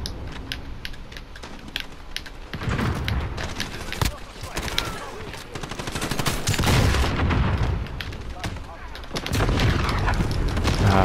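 Cluster strike explosions and gunfire in Call of Duty: Modern Warfare, a dense barrage of booms and rapid shots rolling on continuously, loud and close, with busy game noise throughout.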